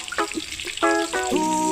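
Onion and garlic dropped into a hot pan for adobo kangkong, brief bursts of sizzling and popping that swell into a sharper, louder fry within about two seconds, close and without talk.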